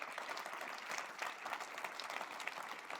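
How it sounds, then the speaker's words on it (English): An audience at the 2026 University of North Dakota State of the University address gives Student Affairs a round of applause, a dense, steady clapping from a large crowd in a hall, with no speech over it. "How about a round of applause for Student Affairs?"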